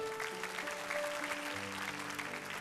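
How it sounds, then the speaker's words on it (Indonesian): Congregation applause during a church sermon, a steady wash of clapping over sustained tones from a keyboard or music underneath, filling the short moment at moderate level. "Beri tepuk tangan untuk Tuhan"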